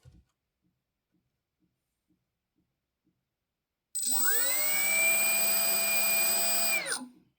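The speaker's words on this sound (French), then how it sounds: "on va faire un essai de mise en rotation du moteur" An RC electric motor driven by an ESC spins up after throttle calibration: a few faint ticks, then a loud steady high-pitched whine with tonal harmonics that holds for about three seconds and winds down abruptly.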